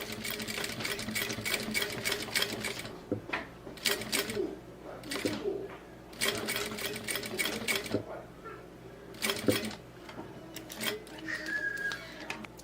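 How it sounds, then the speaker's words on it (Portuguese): A sewing machine stitches a handmade bag in rapid mechanical bursts separated by short pauses, running steadily and close up throughout. "vou passar uma costurinha aqui e uma costurinha aqui mais próximo do ferrinho"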